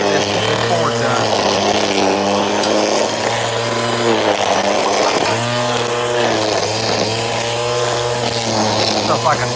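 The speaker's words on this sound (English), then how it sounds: "I figured it'd be a good time to go ahead and go a little weed eat, cut the grass today." A gas string trimmer (weed eater) buzzes steadily while cutting overgrown grass, its engine note droning loud and close, with pitch dips and surges as it bites into thick growth, running continuously throughout.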